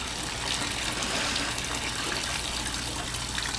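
Water gushes steadily from an outlet on a boat where manatees gather, a continuous rushing, frothy churn at close range with no voices.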